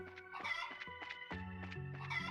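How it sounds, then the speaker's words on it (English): Chickens in the game Trails in the Sky clucking repeatedly, a steady run of short squawking calls over a couple of seconds, close and unbroken, with no voices. "Chickens."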